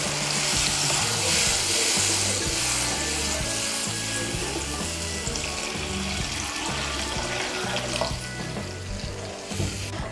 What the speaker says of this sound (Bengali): জলটাকে ভালো করে মিশিয়ে নেব